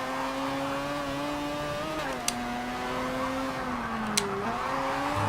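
A small car's engine runs at a steady high drone while racing in Forza 7, the pitch dipping briefly at gear changes, with a couple of faint clicks and no talking.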